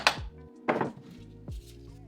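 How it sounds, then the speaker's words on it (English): A rubber mallet smacks the engine case of a Honda CR125R motorcycle behind the water pump, giving three dull, close thumps with short pauses between them. "I grab a rubber mallet and I smack it right behind the water pump here"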